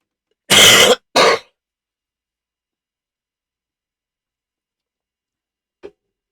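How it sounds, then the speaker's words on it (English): A person coughs twice in quick succession, loud and close, followed by a long silence and one faint throat sound near the end. "I'm sorry, that cough's still bothering me."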